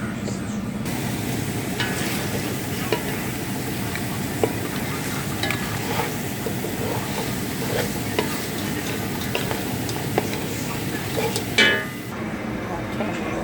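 Food sizzles and fries in a pan and is stirred steadily, with a continuous crackling hiss and the scrape of a utensil, fairly close and loud throughout.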